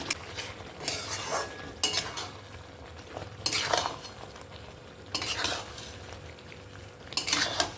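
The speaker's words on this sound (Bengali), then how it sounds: "এবার আমি এতে ঢেঁড়সগুলো দিয়ে দেবো" Okra stirred into a fried spice paste in a pan for a spiced okra curry, a steady scraping stir with bursts of spoon-on-pot clatter and a soft sizzle underneath, close and moderately loud, with no talking.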